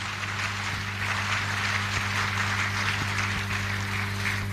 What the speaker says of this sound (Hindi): श्री घनश्याम यादव जी के लिए अब तक की सबसे जोरदार ताली होनी चाहिए